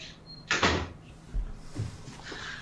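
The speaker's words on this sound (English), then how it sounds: "Let me close the door." A door closing indoors in a room, a sharp thud followed by a couple of softer knocks and rattles, close and fairly loud with no talk.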